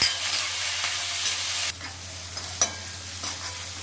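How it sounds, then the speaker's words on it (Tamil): Onions and tomatoes sauté in a pan, giving a continuous close sizzle that drops in level partway through, with a spatula scrape or two. "வெங்காயம் தக்காளியெலாம் நல்லா வதங்கிடுச்சு"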